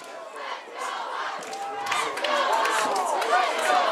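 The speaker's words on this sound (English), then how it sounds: "the crowd here in Wellman getting louder and louder as the plays continue" A high school football crowd in Wellman shouts and cheers in a continuous roar that grows steadily louder, with voices calling out over the din.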